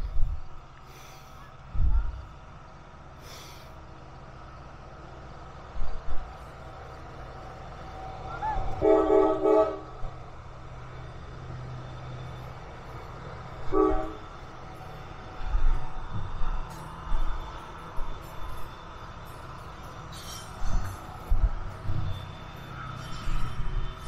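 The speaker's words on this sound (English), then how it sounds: "We got another train in the opposite direction." A distant coal train rumbles past at Horseshoe Curve near Altoona, Pennsylvania, for a long stretch, its horn sounding a few times far off, with no talking.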